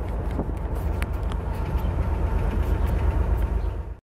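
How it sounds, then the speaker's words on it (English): A Porsche engine runs steadily while driving, a continuous low rumble with broadband road noise that holds level before cutting off abruptly at the end. "I'm driving the Porsche."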